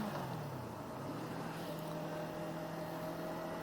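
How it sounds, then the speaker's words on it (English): A 2019 Yamaha R3 motorcycle with its stock exhaust runs steadily while riding, giving a continuous engine drone with a low steady hum and wind noise at constant loudness throughout, with no talking. "Now this motorcycle, the stock exhaust, I think it sounds pretty awesome already"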